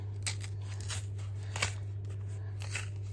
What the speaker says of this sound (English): It's easy to peel, and then you don't throw away the skin.